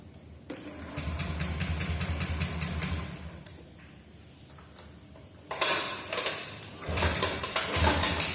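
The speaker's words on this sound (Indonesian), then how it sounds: "Setelah itu mesin kita hidupkan sampai mesin mati sendiri" A Honda Beat fuel-injected scooter engine idles with a steady ticking rhythm while its fuel pump current is disconnected, sputtering and fading before surging again amid clanking workshop noises.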